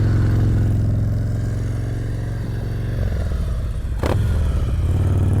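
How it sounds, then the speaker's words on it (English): A motorcycle idling and creeping at walking pace during slow-speed riding practice, its steady engine putter broken by one quick throttle blip, close and loud with no talking. "Little throttle blip"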